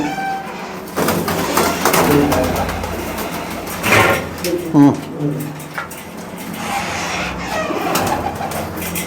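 Pigeons coo in a loft, one of them a black-tailed racing hen, with close, repeated low coos and wing rustles running throughout while people talk nearby.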